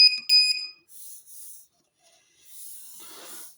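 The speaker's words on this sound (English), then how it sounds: "you'll hear the lipo monitor beep its head off" A LiPo battery monitor on a balance board emits a few quick, shrill electronic beeps right at the start, close and loud, followed by soft hissing and rubbing noises as the battery is handled.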